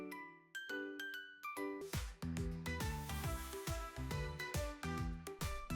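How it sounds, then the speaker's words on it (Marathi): A magic bell in a Marathi children's story rings out in a forest, with bright, glassy chimes and tinkling tones layered into a flowing, dense musical passage. The sound is continuous, fairly full and resonant, with no speech. "आरवने ती घंटा वाजवताच संपूर्ण जंगलात पुन्हा एकदा सुंदर संगीत घुमू लागले."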